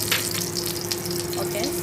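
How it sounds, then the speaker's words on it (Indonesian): Mushrooms and minced octopus sautéing in a hot pan, giving a steady close sizzle and hiss throughout, with faint scraping from stirring on top and no voices. "Tumis dulu, tumis. Ditumis sampai harum dulu."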